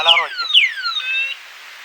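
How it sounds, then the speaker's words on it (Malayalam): An electric scooter's anti-theft alarm sounds close by: a few sharp descending whooping chirps, then a steady high tone that cuts off abruptly. "അലാറം അടിക്കുന്നൊരു മോഡാണ്."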